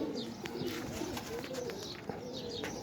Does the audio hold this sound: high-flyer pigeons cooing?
yes